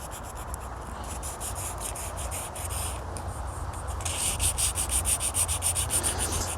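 Sandpaper rubs back and forth over a BMW alloy wheel during a refurb, close rhythmic scratchy strokes that grow louder and more regular in the second half, no voices.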